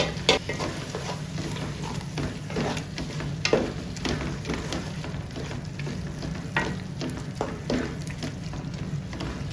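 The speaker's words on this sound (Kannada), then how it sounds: "ಹೀಗೆ ಟೊಮೊಟೊ ಕೂಡ ಸೇರಿಸ್ತಿದ್ದೇನೆ." Tomatoes are added to a sizzling biryani masala in a pan for chicken dum biryani, giving a loud, steady frying hiss with stirring scrapes and clicks at close range, with no voices.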